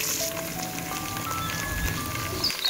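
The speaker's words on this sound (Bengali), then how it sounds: "পেঁয়াজটা হালকাভাবে ভেজে নেব।" Chopped onion fries lightly in a pan of oil with whole cumin and whole garam masala in a village kitchen, giving a steady, close crackling hiss that runs without a break.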